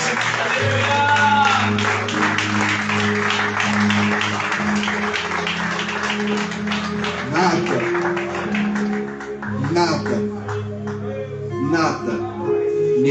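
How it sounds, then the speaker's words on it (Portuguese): A church congregation at a worship service claps in steady applause under loud amplified speech, with a crowd murmur behind it. "Você pode aplaudir a Jesus."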